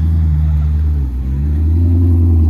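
A Gran Turismo car idles loudly at a car gathering in a château park, its exhaust producing a deep, steady rumble close by, with no speech.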